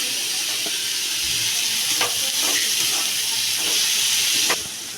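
Finely chopped alkul vegetable pieces fry in a pan with a steady, hissing sizzle. A few scraping stir strokes cut through, and the sound stops abruptly near the end.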